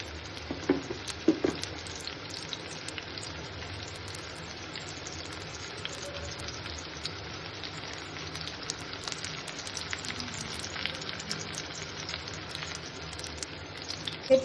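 Hilsa fish frying on one side in a pan over low flame, a soft steady sizzle and crackle throughout, faint and continuous with no talk.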